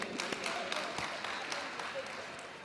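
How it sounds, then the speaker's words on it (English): Audience clapping for a ward councillor at a Johannesburg city plan launch, a faint, distant scattering of hands that thins gradually, with some murmured voices underneath. "Let's clap hands for him."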